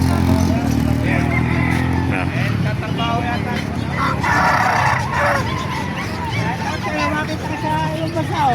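Roosters crow amid the noise of a busy open-air chicken market in Calumpit, Bulacan, with a motorcycle and honking in the mix and people talking throughout.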